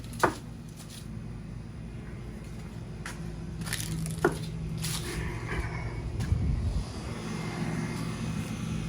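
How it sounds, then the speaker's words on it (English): Steady low mechanical hum of an air conditioner fills the background, with a few faint knocks and clicks scattered over it. "Pardon the noise from the air conditioner"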